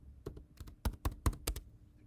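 A computer keyboard being typed on while a customer is entered into a software form, a short burst of about eight close, distinct key clicks in an uneven rhythm, quiet and with no talking.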